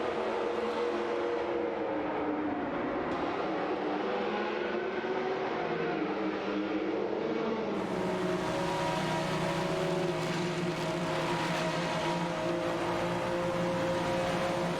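Several race cars from a video game, including a Mazda 787B, a Toyota and a Jaguar XJR-12 prototype, roar steadily together. Engine tones drone, shift and overlap without a break, and there is no talk.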